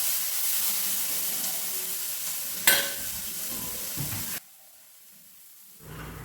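Onions and tomatoes sizzle and hiss as they fry in a pan, with a sharp clatter partway through. The frying then drops away to near quiet before a faint return.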